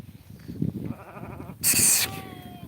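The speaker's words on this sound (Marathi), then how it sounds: "असं मेंढ्या चारतोय आपण हे असं गवत आहे चरायला भरपूर असं" A sheep bleats loudly for about half a second, with low murmuring and rustling beforehand and a faint whistle-like tone after.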